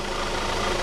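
A 2012 Audi A4 2.0T Quattro with the 8-speed ZF automatic drones steadily while driving, a dense, even engine and road hum with no breaks or talk.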